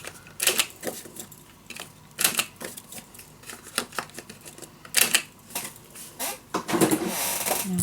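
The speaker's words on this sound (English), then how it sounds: "Let me first cut the corners for this one." Paper corners being cut with a corner punch, a series of sharp close clicks and snaps in irregular rhythm with light paper rustling between them.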